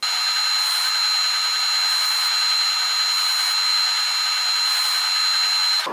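Power tool cutting grooves into a pipe: a loud, steady high-pitched grinding whine with a faint regular pulsing, held for several seconds before stopping abruptly, with no voices.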